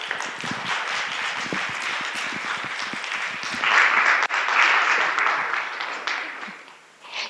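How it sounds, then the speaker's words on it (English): Warm audience applause at a breast cancer prevention talk, steady crowd clapping that swells midway and fades toward the end, with a brief voice at the close. "Please give a warm applause and welcome Dr. Joanne Mortimer."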